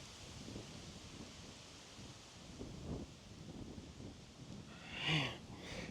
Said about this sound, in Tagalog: Yung naririnig nyo lang yung tunog ng dahon tsaka ng hangin.